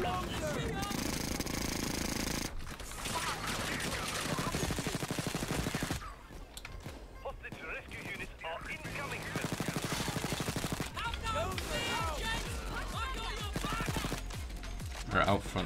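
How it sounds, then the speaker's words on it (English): In Payday 2, a minigun-armed bulldozer enemy on a roof lets loose long, rapid, loud bursts of gunfire mixed with other shots, with people talking over the din. "There's a minigun dozer on the roof."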